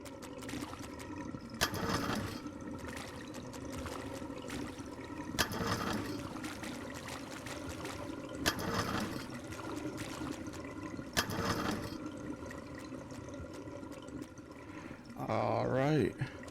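Water drains and trickles in the plumbing video game Drain Sim, a soft running flow broken by periodic louder gurgling bursts, with a short voice near the end.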